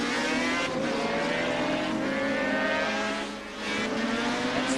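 A Suzuki RGB 500 Grand Prix motorcycle races on a street circuit, its high-pitched two-stroke engine holding a sustained loud wail that dips briefly and then rises again.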